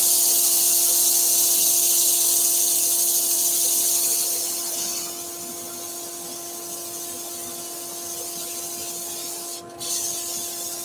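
Workshop dust extractor running as a steady loud hiss and whoosh with a constant hum while wood is sanded on a lathe; it drops to a lower, quieter level partway through, with a brief dip near the end.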